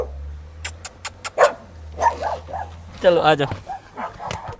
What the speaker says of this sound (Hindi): कुत्ते भी आ गए हैं।